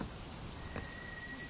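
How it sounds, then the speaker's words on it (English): Steady rainfall in the Fable II video game, an even hiss of drops falling throughout, fairly quiet with a faint tonal whine underneath. "Oh, rain, glorious rain."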